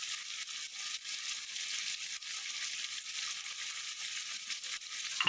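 Fish head frying in a pan with ginger-garlic paste and salt, a steady bright sizzle that holds evenly throughout, close and alone with no voices.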